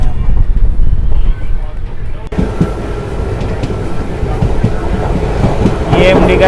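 An EMD diesel locomotive accelerates with a passenger express, heard as a loud, steady low rumble with heavy wind buffeting and some faint higher tones, ending in a brief screech.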